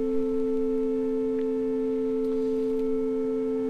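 Pipe organ flute harmonique 8-foot stop sounding a major sixth: two pure, flute-like notes held steadily together for several seconds at even volume, with no talking over them.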